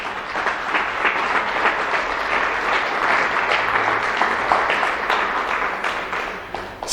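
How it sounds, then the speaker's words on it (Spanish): A church congregation breaks into steady, sustained applause that fills the whole stretch at an even level, dense and close, with no talk over it. "Dale el aplauso al Señor."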